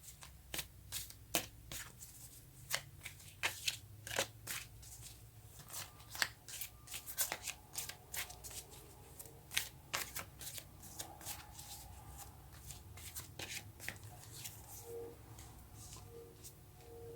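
Tarot cards are shuffled close up in quiet, a long run of crisp riffling and slapping bursts at uneven intervals, with faint room noise between.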